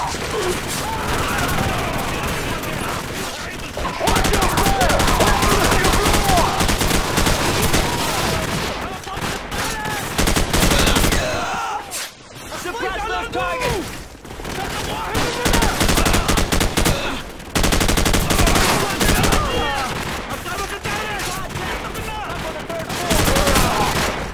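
Machine gun fire in Call of Duty: Modern Warfare during the swamp mission The Bog, with sustained loud automatic bursts and scattered shots running almost continuously, plus shouted voices mixed in.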